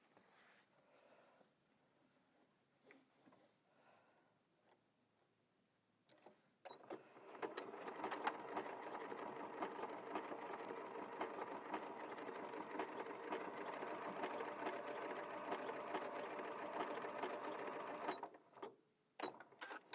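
A Janome Memory Craft 6700P sewing machine sews an over edge stitch on fabric. After a few quiet seconds of handling, it runs in a steady, close whir with a rapid needle rhythm for about eleven seconds, then stops abruptly.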